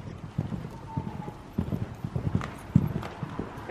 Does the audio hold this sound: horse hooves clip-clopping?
yes